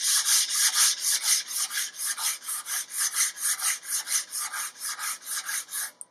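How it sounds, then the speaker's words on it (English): Wood being hand-sanded across the grain to remove cross-grain scratches, a steady run of rhythmic back-and-forth rasping strokes, close and fairly loud, with no talking. "I want to make sure I get rid of my cross grain scratches on that piece"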